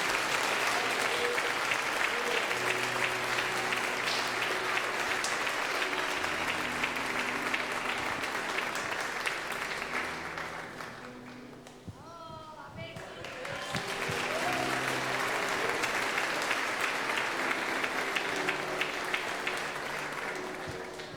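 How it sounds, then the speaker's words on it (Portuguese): A church congregation claps in sustained applause that fills most of the clip, briefly thinning to a lull around the middle before swelling back up, with some voices and background music mixed in. "Você pode aplaudir o Senhor?"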